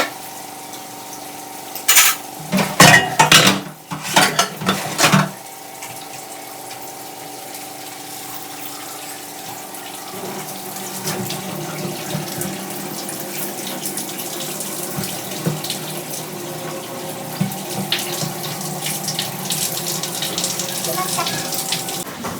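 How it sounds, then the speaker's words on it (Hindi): A running kitchen tap splashes steadily into a sink while a pile of dishes is washed standing up, with a few louder clattering bursts of water and dishware early on, then a continuous rush of flowing water. "लेकिन फिर खाना बनता है तो बहुत ज़्यादा बर्तन भी हो जाता है और इसको खड़े होकर हम धुल रहे थे"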